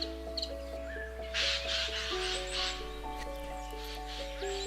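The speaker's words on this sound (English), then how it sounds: "The jay has a distinctive hoarse, shrieking call" A Eurasian jay in woodland gives hoarse, rasping shrieks, a few harsh bursts in the middle, heard over soft sustained background music.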